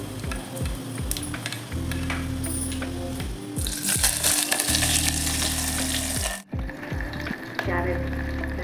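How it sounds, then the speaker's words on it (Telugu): Mustard seeds frying in hot oil for naatu rava upma, a steady dense sizzle and crackle that swells louder midway, with a brief dropout and clattering stirs near the pan. "ఆవాలు వేసుకోవాలి."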